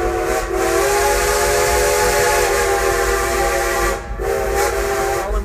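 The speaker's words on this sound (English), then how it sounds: "Letting our train go." Steam locomotive Frisco Silver Dollar Line No. 76 pulling out at a theme park, its whistle sounding loud and sustained over the chuffing engine and rolling cars, with a brief break near the end.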